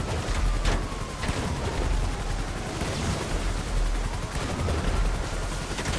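Sustained rattling gunfire from GTA V Online, a dense continuous barrage of shots blended with engine-like rumble, loud and steady throughout with no clear pauses.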